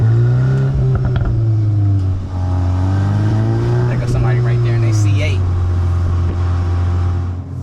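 Volkswagen Mk8 Golf R driving down a road through a quiet neighborhood, heard from inside the car: a steady, loud engine drone that rises and falls gently with the throttle, with a voice occasionally over it.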